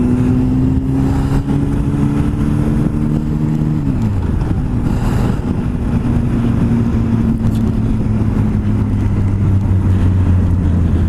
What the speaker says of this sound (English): So now I'm going to downshift to first.